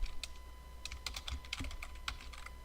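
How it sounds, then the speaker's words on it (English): Names being typed on a computer keyboard with tab presses between fields, a quiet, close run of irregular key clicks in quick clusters and short pauses, with no talking. "I can press tab and then type the last name, and then tab and type another name,"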